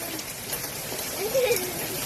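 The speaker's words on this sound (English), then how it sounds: "There's also hail. in the street." Tiny hailstones fall onto a street during a storm in Fort McMurray, making a dense, steady patter like heavy rain with faint voices murmuring briefly in the background.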